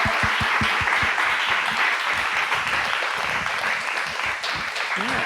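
Audience applause for two poets at a poetry reading, a dense, sustained wash of clapping from a nearby crowd that fills the whole stretch at steady loudness.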